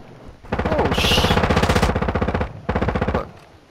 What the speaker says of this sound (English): Shooting guns, wow.